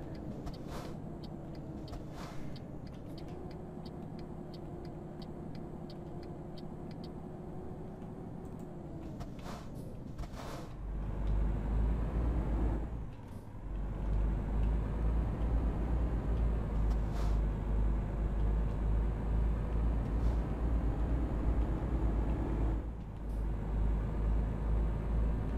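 Truck engine in Euro Truck Simulator 2 revving up, a low, steady drone at first, then a much louder, deep rumbling roar as the throttle opens, with brief hiss-like breaks.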